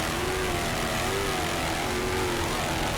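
Broadband roar of a helicopter filming an offshore powerboat race off Miami Beach, a loud, continuous engine and rotor wash with a faint rising and falling tone and no talk.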